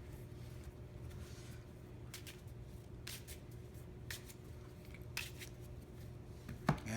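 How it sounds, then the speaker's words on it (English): A deck of cards for a maze-path board game being shuffled, several quick soft riffling bursts spaced a second or so apart, close and quiet with no talking. "Shuffle this one."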